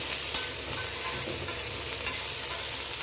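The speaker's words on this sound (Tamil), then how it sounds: "பூண்டு குக்கரில் லேசாக வதக்கி எடுத்துக்கணும்" Garlic sautés in a pressure cooker with a steady, loud sizzling hiss, broken by a few light taps and scrapes of a stirring spoon.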